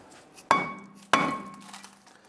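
Two sharp metallic bonks a little over half a second apart as a rusted brake rotor on a 1999-2004 Jeep Grand Cherokee is struck to free it, each hit ringing briefly before fading.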